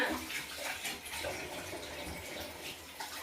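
Water pours steadily into a plate of flour while kadubu dough is being made, a soft continuous gurgle close by, with no talking.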